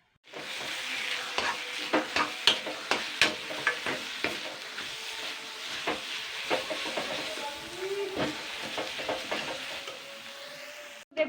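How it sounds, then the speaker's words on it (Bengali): Taro leaves cooking down in a pan with oil, stirred steadily as the water dries off; close, repeated spoon scrapes and clacks over a continuous sizzle and hiss. "আমি কিন্তু নাড়তে নাড়তে পুরোপুরিভাবে কিন্তু জলটা শুকিয়ে ফেলেছি"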